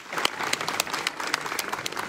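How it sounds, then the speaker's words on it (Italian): Dense applause from a crowd at an Italian election campaign closing event, steady broadband clapping throughout with no speech over it. "chiedo un applauso ancora più forte di quello di prima"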